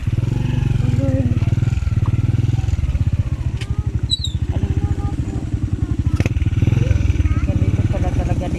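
A motorcycle rides over a rough, frightening road on the way to Camelia Home, its engine droning steadily throughout with clattering and scraping jolts over the uneven surface.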